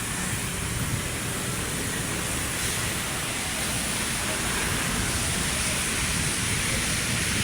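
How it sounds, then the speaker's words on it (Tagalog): Steady rain pours down over Manila Bay in a dense, even hiss that runs unbroken for the whole stretch, close and fairly loud with no voices over it. "It's raining, coming the rain."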